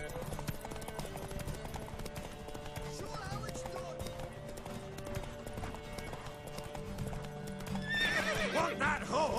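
Horse hooves clip-clop steadily beneath a layer of music and talking voices, and a loud, near whinny breaks out toward the end.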